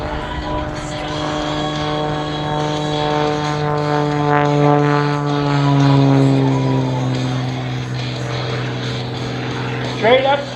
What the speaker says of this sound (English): Tumbling the aircraft in a very small diameter.